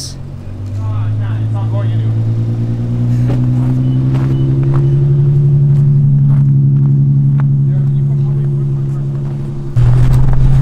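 Stuck vehicle, likely a G-Class with worn tires, engine revving loudly and steadily as gas is applied in winter conditions, rising in pitch and holding, with people talking nearby and a sharper rev surge near the end.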